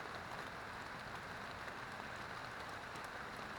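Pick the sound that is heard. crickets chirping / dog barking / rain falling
rain falling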